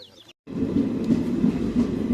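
An Indian Railways train moves through a village station. After a short silence comes a steady, heavy low rumble of rolling wheels, close and continuous.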